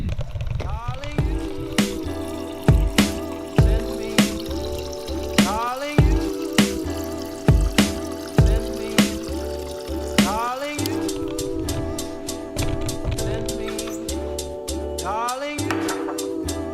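Water running from a coffee machine into a cup, with a steady trickle broken by rhythmic pump pulses and dripping that speeds into quick repeated bursts near the end, close and fairly loud, with no talk.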